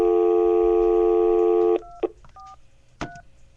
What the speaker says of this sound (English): So we got a phone number here, and it says to contact Bill Zimmerman.